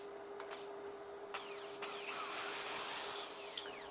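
A corded power drill bores holes through slippery bathroom wall tile, a faint steady whine with gritty grinding bursts, heard from close by with no talking.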